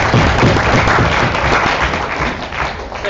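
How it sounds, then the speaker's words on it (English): An audience at a university debate on animal research breaks into sustained applause, dense clapping filling the room at steady loudness for about three seconds before easing slightly. "Round of applause,"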